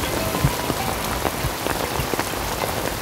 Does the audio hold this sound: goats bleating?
no